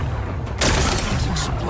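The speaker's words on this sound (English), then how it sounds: "It's exploding." Rocks being blasted apart in Horizon Forbidden West, a sudden broad crashing burst after a quiet lead-in, then a sustained rumbling roar of debris that stays loud to the end.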